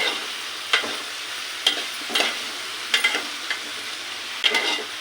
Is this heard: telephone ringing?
no